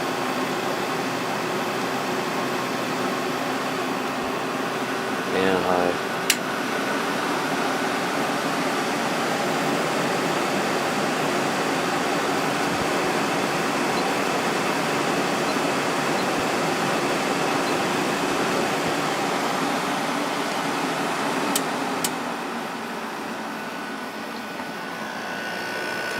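Whirlpool 5,000 BTU window air conditioner running on high, a steady broadband blowing hiss with a smooth compressor hum underneath, constant and close, with a couple of faint clicks and a slight drop in level near the end.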